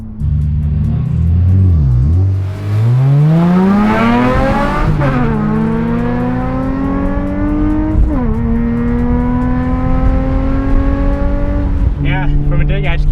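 A Nissan 350Z on snow tires launches hard with wheels spinning, the engine revving high and climbing through several gear-like rises and drops, loud and close from inside the car with voices occasionally over it.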